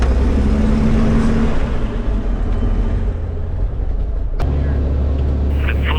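Small aircraft engine run up to full throttle on the ground before takeoff, a loud steady droning roar with strong low rumble that shifts pitch partway through, with faint voices over the noise.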